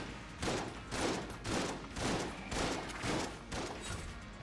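Rapid bursts of gunfire from a poor weapon in the video game Enter the Gungeon, about seven evenly spaced volleys, loud and close, with no talk over them.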